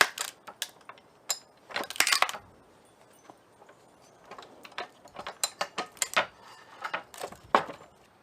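A hi-lift jack bolted to a pallet as a log splitter ratchets upward in sharp, irregular metallic clicks and clacks, some quick clusters and some isolated snaps, close and fairly crisp.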